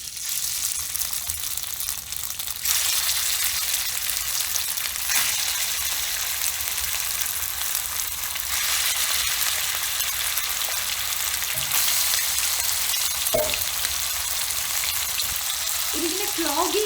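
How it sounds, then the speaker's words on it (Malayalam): Beef strips sizzle and fry in vegetable oil in a hot wok for a Mongolian beef dish, a steady loud crackling hiss throughout with occasional stirring scrapes near the end. "പാൻ ചൂടാകുമ്പോൾ അതിലേക്ക് നമുക്ക് ബീഫ് ഇട്ട് കൊടുക്കാം."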